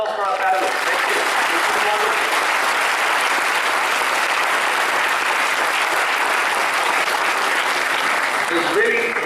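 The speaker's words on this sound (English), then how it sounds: "A large round of applause for our panelists." A large conference audience applauds its panelists continuously, a thick, even roar of clapping that stays loud from start to finish.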